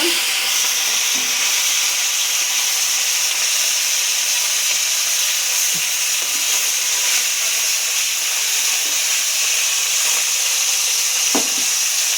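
Fish sizzling in hot oil in a kadai while mourola fish are prepared, a steady, loud, continuous frying hiss throughout with a few faint clinks near the end.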